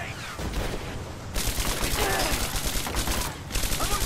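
Machine gun fire in Rise of the Tomb Raider, dense rapid bursts of gunshots crackling continuously, briefly pausing and then resuming loud and close.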